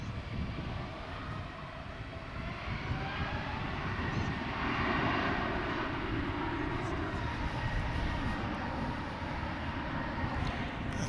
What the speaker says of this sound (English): That sounds like an Airbus A321.